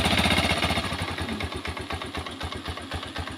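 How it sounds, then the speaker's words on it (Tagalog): A TMX 125 Alpha motorcycle engine with a wet spark plug runs nearby with a rapid, pulsing chug, steady and a little uneven, heard on its own. "ayan yung tunog ng makina natin"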